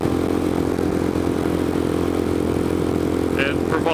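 A Royal Enfield Scram 411 motorcycle cruising on the highway, its steady engine drone and rushing wind filling the sound at a constant loud level, with a brief higher tone near the end, under talk.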